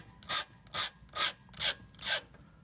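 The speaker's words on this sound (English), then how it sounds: "So I've got a medium grit diamond stone here" Tweezer tips stroked across a medium grit diamond stone make five short, evenly spaced scraping rasps, close and crisp, with no voices.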